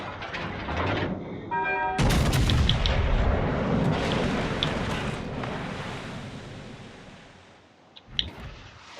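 Naval artillery from the battleship Yamato in World of Warships Legends booms in a heavy salvo, then rumbles and fades amid wind and surf-like wash, with a sharp crack near the end.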